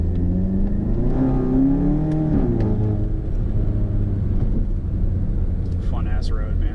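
A VW MK7 GTI with Cobb Stage 3 tune and catless downpipe accelerating, a loud rising engine drone with turbo spool building steadily, heard from inside the car with someone talking over it.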